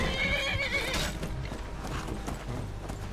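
A horse whinnies and its hooves clip-clop in the video game Skyrim, the neigh loud at the start, then steady hoofbeats continuing alone.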